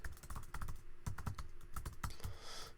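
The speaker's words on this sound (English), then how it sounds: "you can start typing it in here" A domain name typed on a computer keyboard: quick, close, irregular key clicks in short bursts, quiet and alone with no talk.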